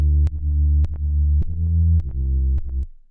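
Fast-attack compression on a bass produces clicky, distorted artifacts: a sustained low tone broken by sharp ticks and dropouts roughly every half second, loud and up front with no voices.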